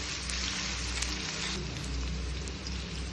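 Onion fries in a pan for street-style Hakka noodles, giving a steady, dense hiss like rain that carries evenly, close and alone with no talk.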